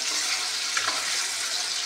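Paneer cubes fry in a hot pan with oil, giving a steady, close crackling sizzle that holds at an even level throughout with no talking.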